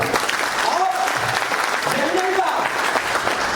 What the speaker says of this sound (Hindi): मैं तालियां चाहूंगा।